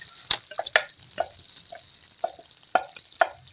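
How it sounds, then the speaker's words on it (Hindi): Water added to chicken karahi with softened tomatoes in a pan, heard as a string of scattered plops and drips spread unevenly over a few seconds against a quiet kitchen background. "अब इसमें थोड़ा सा पानी शामिल कर लेंगे।"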